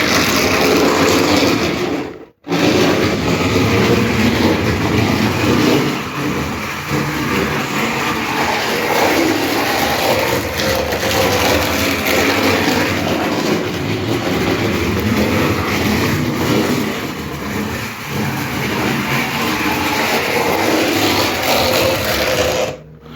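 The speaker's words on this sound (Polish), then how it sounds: "ten pociąg ruszył" An electric E69 model locomotive with a strong twin-motor drive runs along a layout track, giving a steady, loud whirring motor hum with rail rumble that continues without pause.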